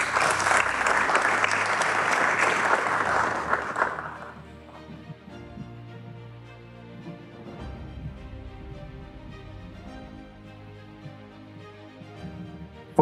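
Loud applause at a school award ceremony fills the first four seconds, then drops away abruptly, leaving quieter background music and room sound for the rest.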